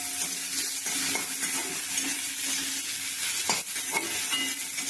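Onions sizzling steadily in a hot pan as they are fried until reddish-brown for a fish curry, with occasional stirring scrapes over a constant hiss; no one speaks.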